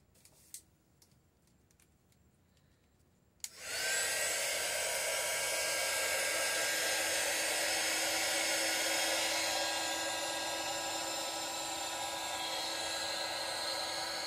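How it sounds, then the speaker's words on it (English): After a few seconds of near silence with faint taps, a heat wand switches on over a resin puddle pour and blows a steady, fairly loud airy whoosh that continues to the end. "I think I'm going to torch it one more time here. Use my heat wand on it."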